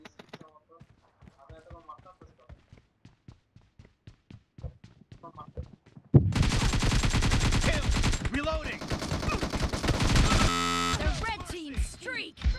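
Gunfire in PUBG Mobile erupts after a quiet stretch of sparse clicks: a loud, dense stretch of rapid automatic fire and overlapping shots for several seconds, then a brief pause and a final burst.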